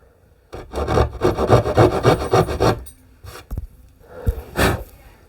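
The blade of a DIY folding knife from a multi-tool set cuts into wood with a close, loud rhythmic rasping of repeated strokes, followed by a few sharper scrapes and knocks.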